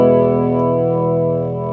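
Electric guitar run through a vibrato effect pedal set to a slower speed, a sustained chord with a gently wavering pitch, loud and close, with no voices.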